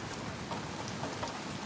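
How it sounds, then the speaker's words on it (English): Steady rain pattering on a surface, a continuous dense hiss of drops without pauses, fairly close and even in loudness. "As the rain picks up."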